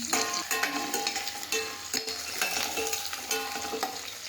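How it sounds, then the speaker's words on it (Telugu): Onions and green chillies fry in a pan for dhaba-style chicken gravy, a bright crackling sizzle with rhythmic stirring scrapes, close-up and steady over a few seconds. "ఇవి కొంచెం బాగా వేగి గోల్డెన్ బ్రౌన్ కలర్లోకి రావాలి."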